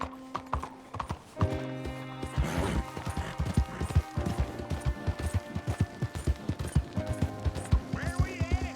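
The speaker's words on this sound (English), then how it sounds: "You got a horse? Get on it." Horse hooves clip-clopping in Red Dead Redemption 2, a steady close rhythm of hoof strikes starting after a few clanks and thuds, with brief game sound effects mixed in.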